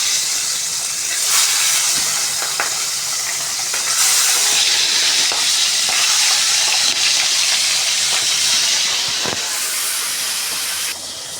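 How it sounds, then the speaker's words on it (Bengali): Pabda fish frying in hot oil for a spicy curry gives a steady, loud hiss and crackle from start to finish, with a few sharper pops scattered through and no voices. "দেখো, পাবদা মাছ ভাজা হয়ে গেছে।"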